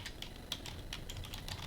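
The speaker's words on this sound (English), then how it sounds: "So I'm gonna type in mom" A few light, quick keystrokes tap on a computer keyboard, faint and close, in a short run of clicks.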